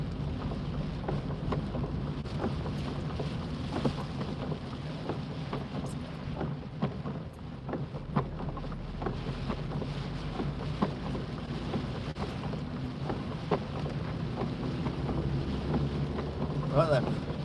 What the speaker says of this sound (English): turn off the windscreen wipers so you can hear the rain.